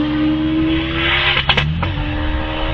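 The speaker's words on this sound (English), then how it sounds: "here comes Ben Hamer, the Kawasaki engine one" A Kawasaki-engined hillclimb race car at a British championship event at Harewood roars past at steady high revs, with a brief shift or lift midway before the engine note resumes, loud and close.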